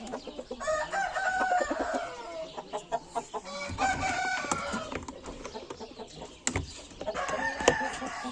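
A rooster crows several times nearby, drawn-out calls mixed with clucking hens and other farmyard fowl.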